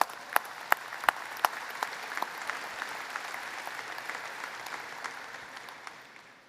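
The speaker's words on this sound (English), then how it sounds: "Let's give them a round of applause." A convention hall crowd at a VFW national business session applauds standing committee members, a steady wash of many hands with a few sharp nearby claps, fading slightly toward the end.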